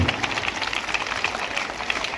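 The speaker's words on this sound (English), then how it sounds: "That should be a rapturous clapping for them." A crowd gives children a standing ovation at a Bhartiya Bhasha Utsav celebration, with steady, dense clapping that holds at an even level throughout.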